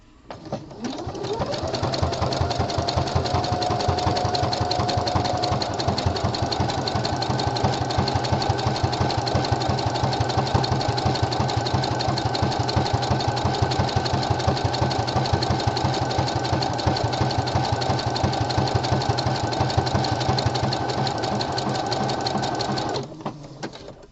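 A home sewing machine runs steadily and close up for about twenty seconds, stitching the gusset panel of a pair of boxer briefs with a continuous rapid mechanical whir.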